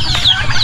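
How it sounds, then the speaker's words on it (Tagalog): Turkeys and chickens kept together in a farm pen give a brief burst of close clucking. "So ito yung mga pabo dito sa loob."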